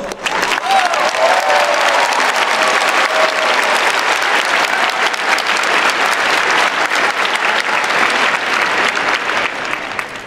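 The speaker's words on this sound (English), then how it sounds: "Please join me in a round of applause." Sustained applause from the audience at a university graduation diploma and awards ceremony, a loud, steady wash of clapping that carries without a break for the full ten seconds.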